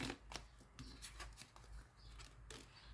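Oracle cards are shuffled by hand during a card reading, a soft continuous riffle of rapid papery slaps and flicks close to the listener, without speech.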